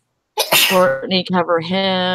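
A loud, sharp sneeze bursts out close by, and talking follows right after it.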